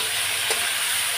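Green bananas frying in oil in a pan for a fish curry give off a steady, close crackling hiss with one brief stir partway through.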